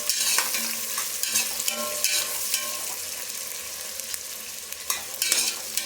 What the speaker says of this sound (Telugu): ఆనియన్స్ గోల్డెన్ బ్రౌన్ కలర్ వరకు వేయించుకోవాలి మనం